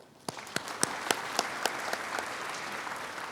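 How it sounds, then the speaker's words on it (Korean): Audience at a Daegu–Gyeongbuk innovation university festival bursting into applause, a dense wash of clapping with a few sharp, distinct claps standing out near the start. "이 플랫폼에 박수 한번 치겠습니다."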